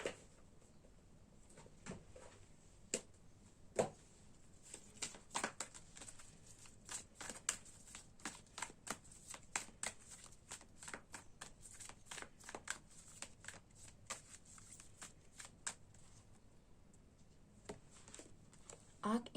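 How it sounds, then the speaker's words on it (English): A deck of Archangel Oracle cards is shuffled up close in a quiet room, with many quick crisp riffles and taps in an irregular, ongoing rhythm. A voice speaks faintly in places. "let me pull an Archangel Oracle card for you"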